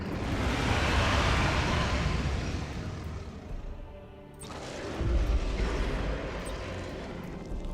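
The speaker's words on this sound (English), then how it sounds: "Let's just launch some speculative torpedoes." Torpedo launches in the space strategy game Battlefleet Gothic: Armada 2, heard as a sustained roaring, rumbling whoosh that eases off, then a second heavy burst of roar starting midway and continuing loudly to the end.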